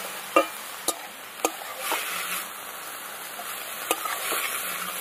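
Red amaranth greens fry in a pan with a soft continuous sizzle, broken by several sharp clicks and scrapes as a spatula stirs them, fairly quiet and without talk.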